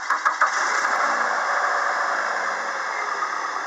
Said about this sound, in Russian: Работает двигатель на холостом ходу.